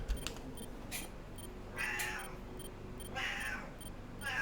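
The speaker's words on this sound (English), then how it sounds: "yeah, my cat's also pitching in." A house cat meows several times, faint and somewhat distant, over a quiet background of computer game sounds.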